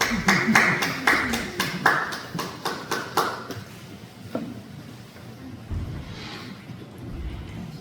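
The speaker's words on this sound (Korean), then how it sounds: "박수." A church congregation claps in a brisk, even rhythm of sharp hand claps that fades after about three seconds, leaving quiet room noise and a few faint knocks.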